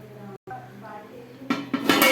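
A cooking pot lid is lifted to check potatoes boiling inside, giving a couple of close metallic clinks and a rattle toward the end, with a steady background hum and a brief gap early on.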